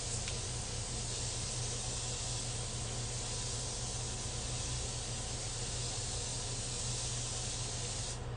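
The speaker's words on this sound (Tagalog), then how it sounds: "Pero ito yung pinakabit kong setting spray." Evian facial water setting spray hisses in one long, steady, close burst that runs for several seconds before cutting off abruptly.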